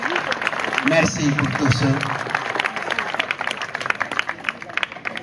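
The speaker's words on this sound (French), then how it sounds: "On peut vous applaudir, hein?" Scattered clapping from a small group after a firewalk over coals of 625 to 890 degrees. The claps are close and uneven under overlapping talk, with a person speaking over them.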